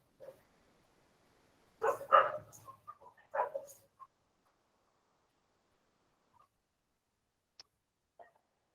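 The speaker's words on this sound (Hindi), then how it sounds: "क्या कुत्तों की आवाज ज्यादा आ रही है?" Dogs bark outside in a short burst of several barks, fairly distant and faint, followed by a few isolated faint yips amid quiet.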